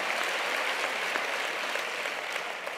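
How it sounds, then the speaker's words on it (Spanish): Sustained applause from a large audience at a UGT union confederal congress in Valencia, steady and dense clapping filling the hall throughout. "dejadme que acabe y luego aplaudís"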